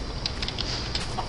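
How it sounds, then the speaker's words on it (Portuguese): A chicken in the Minecraft video game gives short, clipped clucks over a steady background hum. "Tá vendo aí a galinha?"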